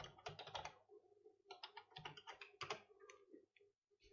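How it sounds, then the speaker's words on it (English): A password typed on a computer keyboard: quick, close bursts of light keystrokes in a few short runs with brief pauses, fairly quiet. "type in our password"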